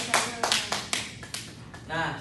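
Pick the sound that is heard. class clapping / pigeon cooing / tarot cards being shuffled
class clapping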